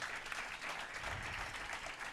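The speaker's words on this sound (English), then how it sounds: "a round of applause." Applause from an audience at a political panel discussion, a dense, even patter of clapping that sounds distant and faint, held steady for a couple of seconds.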